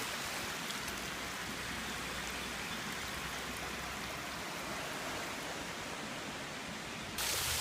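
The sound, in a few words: waterfall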